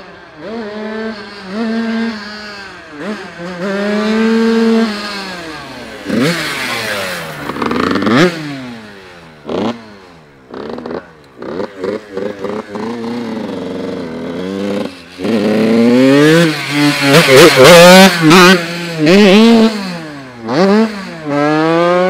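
A Yamaha 82 YZ dirt bike revs hard through a wheelie, its engine rising and falling in repeated sharp sweeps, loud and close, with brief gaps between bursts and no talk over it.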